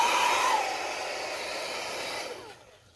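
A heat gun blows steadily while warming tint film on a 2018-2019 Honda Accord headlight reflector, a loud broadband whoosh that eases slightly after half a second and then cuts off near the end.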